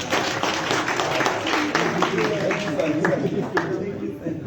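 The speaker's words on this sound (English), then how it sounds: "Let's give you a round of applause." An audience at a youth peace and tolerance event in Zimbabwe applauding, with dense, steady clapping that fills the space evenly, plus scattered voices beneath it.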